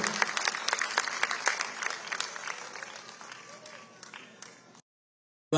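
An audience breaks into dense, sustained applause that welcomes Jay Shah at a cultural event in Ahmedabad, then fades gradually and stops in near-silence at the end.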